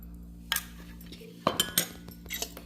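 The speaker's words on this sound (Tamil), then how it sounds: "இப்போ இது எல்லாத்தையும் சேர்த்து நல்லா மிக்ஸ் பண்ணிக்கலாம்" A spoon clinks against a glass or pot while rose milk with soaked almond gum and sabja seeds is stirred: a few sharp metallic taps and short scraping strokes, close by and with no talking.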